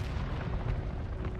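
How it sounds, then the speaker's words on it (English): A mortar strike explodes in a video game, a deep rumbling boom rolling on at moderate distance with a low, dense roar and scattered thuds. "Mortar strike, isn't it? That was mortar, yeah."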